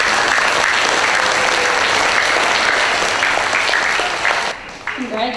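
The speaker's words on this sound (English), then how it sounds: "Let's give her a round of applause." An elementary school audience gives loud, dense applause for a student of the month award. The clapping fades out near the end as a voice begins to speak.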